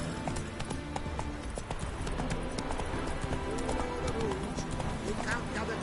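Horse hooves clip-clop in a steady, close rhythm while riding in the video game The Witcher 3, continuing throughout under voices talking.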